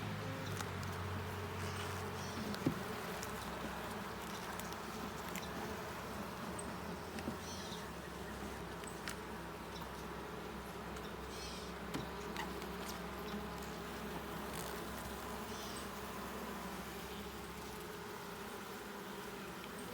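Honeybees buzz around an open beehive during an inspection a week after a new nuc was installed, a steady low drone of many insects throughout with faint scattered ticks and no clear talk.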